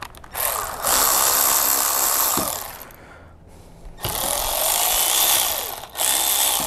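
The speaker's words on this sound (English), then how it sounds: "I'm simply gonna just take this hose off." An intercooler hose is pulled off the throttle body of a Ford Ranger 3.0 diesel, giving close, loud bursts of rubbing, scraping and clunking in two main stretches with a short quieter gap between them.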